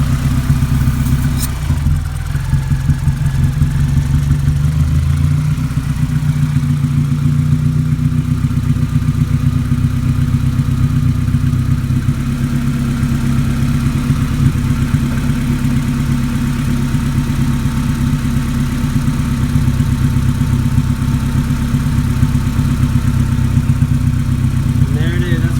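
A car engine idles steadily during an air/fuel mixture adjustment, a continuous low rumble held close throughout with a brief clatter near the start.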